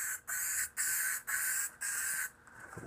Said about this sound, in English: So we'll just spray that on so it sticks.